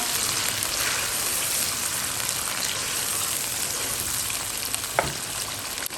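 Mutton karahi sizzling steadily in the pan as half a cup of yogurt is added and stirred in, a dense, even fry crackle with one brief scrape of the spoon near the end.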